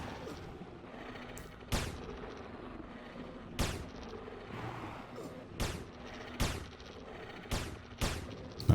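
Anarchy Online gameplay in which sharp shots ring out one at a time at irregular intervals, about seven in all, each a loud crack with a short decay above a low, steady background hum.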